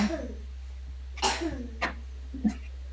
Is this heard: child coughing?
yes